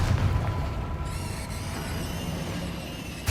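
A Confringo blasting spell goes off in Hogwarts Legacy, a dense rumbling burst that gives way to a bright, ringing magical shimmer, loud and close with no voices.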